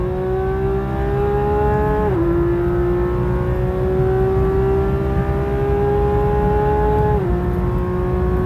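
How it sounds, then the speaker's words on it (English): A Porsche GT3RS with a ported throttle body pulls hard in second gear, its engine a loud, continuous close-up roar that dips briefly in pitch twice before climbing again, with no talking. "We're about to do our 2nd gear pull."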